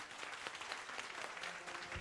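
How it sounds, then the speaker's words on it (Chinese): A church congregation claps together in a steady, even patter of applause that holds throughout, soft and distant, with no talk over it. "我们再次以掌声赞美我们的神。"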